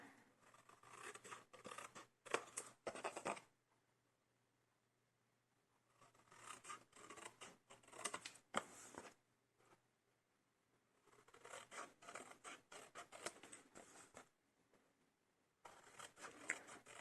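Scissors cut paper corners for a handmade mini album in four separate bursts of close, crisp snipping and rustling, with near silence between them and no talk.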